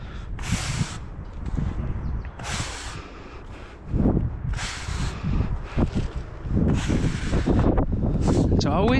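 Breezy wind gusting outdoors over a backyard paver patio, broad rushing bursts that rise and fall across the clip, with intermittent talk and movement sounds close by.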